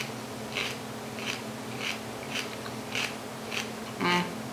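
Celery being eaten: six or seven crisp crunches come at an even pace, each a short close bite against a steady low hum, and the last is the loudest, with no talk.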